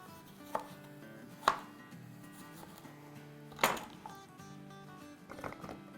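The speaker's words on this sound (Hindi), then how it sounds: "इसको भी हम रफली पीस करके और डाल देंगे।" Two tomatoes roughly chopped on a board for Turkish pide, with a few sharp knife strikes spaced irregularly, quiet and close, and no voices.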